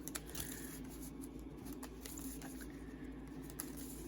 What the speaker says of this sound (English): shuffle up a bit, because everything was in order